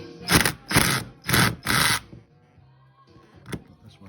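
An impact wrench fitted with a 12mm socket removes bolts from a 1936 Austin 7 Opal engine, giving four loud, close, rattling bursts in quick succession followed by quieter handling sounds and one short click.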